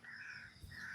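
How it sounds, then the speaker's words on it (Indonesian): A waterhen calls once among thorny plants near its mate: a faint, hoarse, drawn-out croak heard from a distance, with no talking. "itu adalah suara burung keruak"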